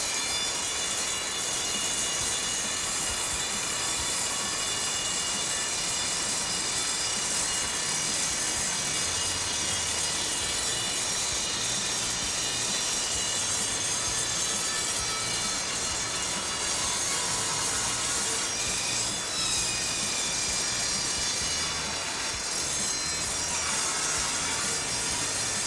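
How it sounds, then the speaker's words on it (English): An Evolution sliding miter saw cuts through clamped metal stock on the downstroke, giving a loud, continuous, harsh roar that runs unbroken for the whole stretch with no talking. "That's what's so awesome about these Evolution sliding miter saws."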